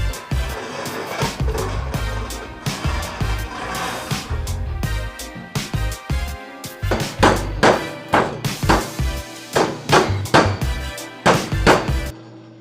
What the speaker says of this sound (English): The hammer's not necessary, I just like to do it to make sure they're very, very secure.